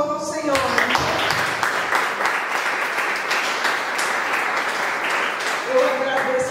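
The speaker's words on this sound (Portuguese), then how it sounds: "As palmas louvam o Senhor" A church congregation claps during a Sunday service, with sustained, fairly loud rhythmic applause and a voice heard at the start and again at the end.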